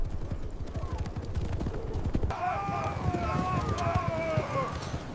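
Horses gallop with steady clip-clop hoofbeats as mounted soldiers ride into the hills, loud and close, with a whinny and rougher movement layered over the running in the second half.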